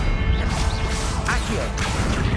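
Confringo and Expelliarmus spells cast in the Hogwarts Legacy video game, a dense burst of magical whooshes, crackling impacts and swishing effects running continuously with sharp bright flares near the middle and end.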